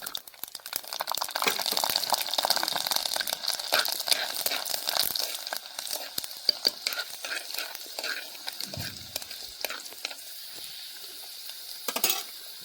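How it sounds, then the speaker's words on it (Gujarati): Whole cumin and garlic cloves hit hot oil for a Kathiawadi-style spicy yogurt dish, sizzling in a loud, steady crackle that slowly thins out, with a spoon scraping the pan near the end. "તો મિત્રો આપણું તેલ આવી ગયું છે આપણે નાખી દઈશું આખું જીરું"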